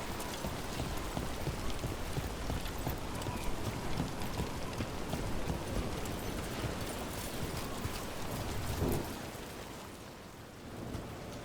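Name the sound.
rain falling in the video game Dragon Age: The Veilguard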